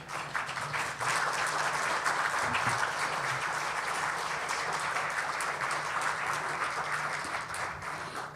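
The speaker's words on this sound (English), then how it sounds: "Would you both please stand so we can give you a round of applause as our partners?" Sustained applause from a brunch audience fills the room for about eight seconds, a dense, steady wash of clapping that starts abruptly and tapers slightly at the end.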